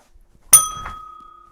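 A single bell struck once, giving a sharp metallic ding that rings on as a clear, slowly fading tone, alone and close by.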